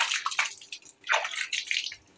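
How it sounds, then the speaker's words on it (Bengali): A cooking pot is rinsed and scrubbed under running water, with splashes and pouring bursts coming in uneven waves, close and fairly quiet. "বাড়িটা ধুয়ে নিল।"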